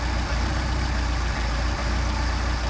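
A car engine idling on a German Motorwerks Solex carburetor, a steady low rumble with faint irregular stumbles, close and continuous with no talk.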